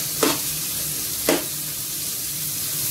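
Onions tossed into a modest amount of hot cooking oil for Filipino dinuguan give two short, bright sizzling bursts, then settle into a steady, even frying hiss with no talking.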